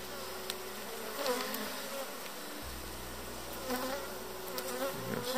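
Honey bees swarming around an open hive in a steppe apiary, a steady close drone of many wings with no talk over it.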